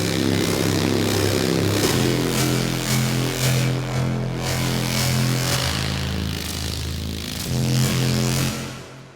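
A Reese bass preset on the Native Instruments Massive synth, a tech step patch, plays a loud, sustained, detuned low growl with pulsing gritty texture. It holds steadily for about nine seconds before fading at the end.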